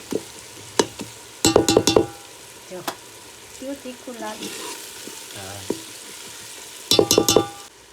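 Cumin and spices hit hot oil in a pan over a wood-fired stove, a bright crackling sizzle in bursts with clinking stirs and quieter gaps where a voice briefly talks.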